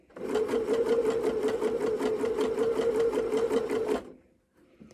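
Sewing machine stitching gathering lines for a dress at slow speed, an even rapid mechanical chatter of needle strokes running steadily for about four seconds before stopping, with a faint rustle after.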